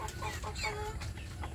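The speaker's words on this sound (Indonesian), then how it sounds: "bersiap untuk memberi makan ayam kampung saya yang ada di kandang pembesaran" Free-range village chickens cluck in a pen at a small-scale farm, with overlapping clucks from several birds filling the short stretch at a steady, close level.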